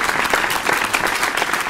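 Audience applause on a rockstar-themed talk show, a steady wash of clapping that stays loud and even from start to finish, with no voices above it.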